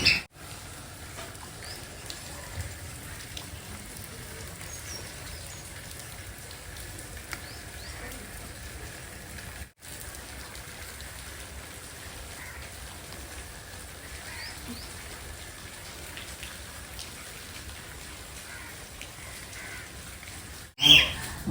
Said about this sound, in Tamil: அங்கே மழையும் பெய்யுங்க